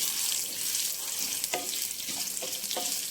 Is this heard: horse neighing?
no